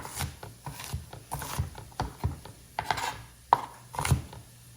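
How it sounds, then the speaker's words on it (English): A knife dices an onion on a cutting board, giving a run of irregular, close, crisp chops and scrapes with short pauses between strokes, and no talking. "that's dicing our onion"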